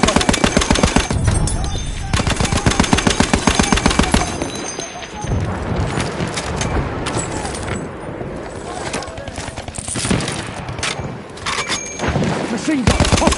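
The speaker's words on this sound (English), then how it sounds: "Machine gun!" Rapid, continuous machine gun fire in a shooter video game, loud and close, with rattling bursts running almost nonstop through the whole stretch amid battle noise.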